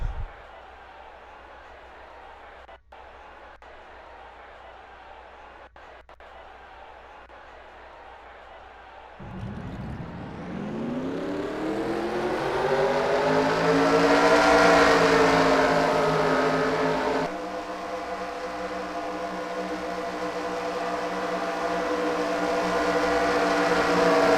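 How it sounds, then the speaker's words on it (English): Race car engines at an SSSR Atlanta heat race fire up after a quiet stretch, then rev and climb into a loud, sustained roar of several cars idling and revving together. "Drivers, start your engines!"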